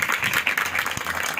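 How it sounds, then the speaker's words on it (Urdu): Congregation applauding during a church service, a dense, continuous wash of many hands clapping at close to medium distance, fairly loud and steady throughout. "زوردار تالیاں بجا کر خدا کے نام کو مبارک کریں"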